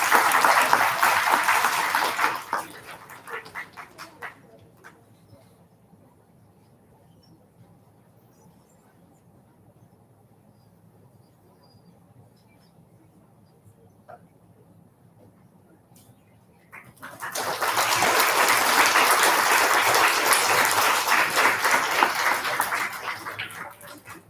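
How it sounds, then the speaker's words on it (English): An elementary school audience applauds fourth grade award recipients at a student recognition ceremony. A burst of clapping fades into a long quiet stretch, then a second full round of applause rises and holds. "Let's give our fourth grade recipients a round of applause."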